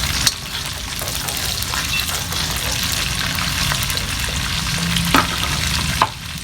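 Onions frying in red palm oil for egusi soup, a steady close crackling sizzle with occasional clanks and scrapes of a spoon stirring the pot.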